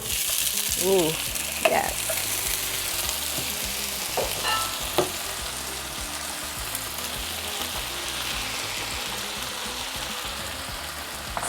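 Beans hit a pan of fried onions and sizzle steadily while a spoon stirs and scrapes, a continuous close frying hiss with brief utensil clatter and a short spoken exclamation.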